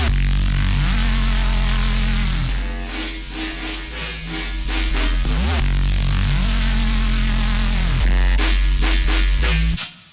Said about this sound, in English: then I use a reverb that sounds like this